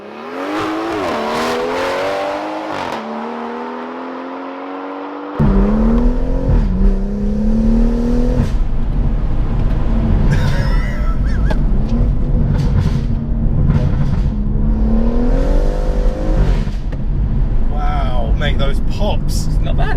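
A 430bhp Motech BMW M140i Shadow Edition pulls away and accelerates hard on the road, its engine note rising loud through repeated gear pulls, with voices talking inside the car.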